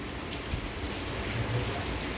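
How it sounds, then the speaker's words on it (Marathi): Heavy unseasonal rain pours down over Deglur town, a dense, steady roar of drops hitting surfaces close by, with no voices and no distinct thunder. "देगलूर शहरामध्ये खूप मोठा या ठिकाणी पाऊस पडत आहे"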